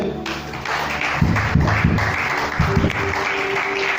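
A church congregation applauding during a sermon, steady clapping from many hands across the whole moment, moderately loud, with a few louder slaps and a low hum beneath.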